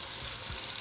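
Tomato paste hits a hot pan for red-sauce pasta, giving a brief, steady broadband sizzle with faint stirring underneath, heard alone without talk.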